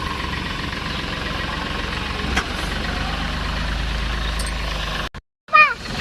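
A vehicle engine idles nearby, a steady low rumble that runs for about five seconds and then cuts off, followed by a short bright chirping sound.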